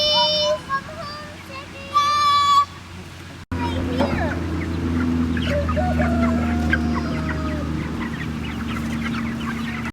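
Chickens clucking and squawking nearby in a coop, short repeated calls at first, then a busier stretch of overlapping clucks over a steady low hum.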